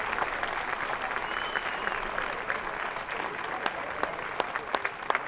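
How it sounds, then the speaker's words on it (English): Crowd applauding at a high school baseball quarterfinal after a player is hit on the shin by a ball, steady moderate clapping from the stands with a few sharper nearby claps, under faint background voices. "It's a nice hand from the crowd."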